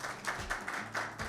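An audience at a Mother's Day mushaira claps in a brief burst of scattered, uneven applause, moderately close and without talk.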